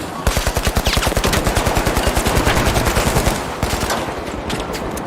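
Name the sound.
turret gunfire in a video game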